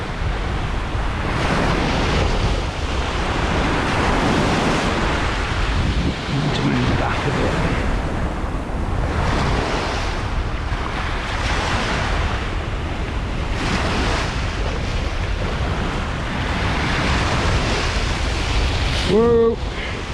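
Sea waves roll and break continuously along a shore during a lure fishing session for bass, a steady loud surf wash with surges swelling and fading, wind buffeting the microphone and a brief voice near the end.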